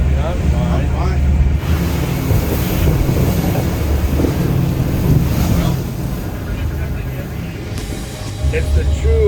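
Strong wind and large waves buffet a fishing boat crossing the Gulf of Alaska toward Montague Island, a loud, continuous roar of gusting wind noise on the microphone and rushing water, close and unbroken throughout.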